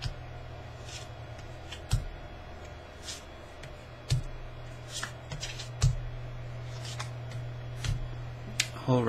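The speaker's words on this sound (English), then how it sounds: "the microphone can pick up the shuffle, and sometimes it sounds quite loud" A deck of tarot cards is shuffled close by, giving soft papery riffles and a few sharper snaps at regular intervals over a low, steady background hum.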